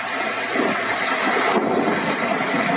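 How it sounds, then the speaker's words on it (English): Steady, dense rushing noise with a low rumbling undertone from a Glade portable white noise machine's thunderstorm setting at highest volume, loud and continuous throughout, like heavy rain and distant thunder. "it sounds like this is a thunderstorm."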